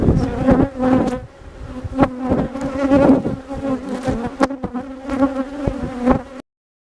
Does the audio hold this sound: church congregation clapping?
no